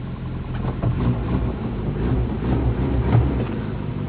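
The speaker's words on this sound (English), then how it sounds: "That's a good running motor." A Toyota truck engine idles steadily with a low, even rumble that holds at a constant level throughout, with no talk over it.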